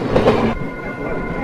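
A train rumbles along the rails of China's high-altitude railway from Beijing with a steady low roar and faint rattling, close by and continuous.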